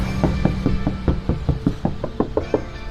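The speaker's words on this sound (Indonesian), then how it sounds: "Pintunya yang awalnya suaranya kayak kaleng, sekarang sudah bener-bener beda." Knuckles knocking on a soundproofed Toyota Yaris car door, about a dozen quick dull thuds in an uneven rhythm, close and fairly loud, with no one speaking.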